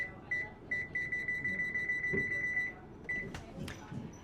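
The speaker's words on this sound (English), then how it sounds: "I'm going to go ahead and set my timer for 15 minutes." An oven timer set for fifteen minutes on a 450-degree oven, giving a rapid run of high, evenly spaced electronic beeps for a couple of seconds, then a brief final beep, faint and close against quiet kitchen noise.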